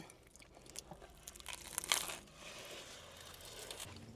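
Crunching bites into a buttery toasted sandwich with caramelised onion and bacon, soft crackling and crushing close to the microphone, peaking in one sharp crunch before fading into quieter chewing.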